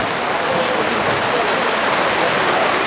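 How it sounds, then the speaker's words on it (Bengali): Rain falling at an outdoor market, a steady dense patter that is loud and close throughout, with no voices over it. "বৃষ্টি হচ্ছে"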